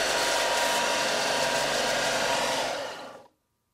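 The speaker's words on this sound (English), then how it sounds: "just chamfer this edge and sand this one a little bit smooth" Chamfering and sanding the edge of a wooden French cleat fixture, heard as a loud, steady, rough whir of a power tool close by, running without a break for about three seconds before cutting off abruptly.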